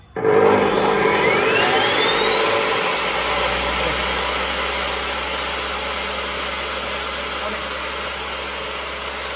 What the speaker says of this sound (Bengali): কাট অফ স চালিয়ে দেখাচ্ছি।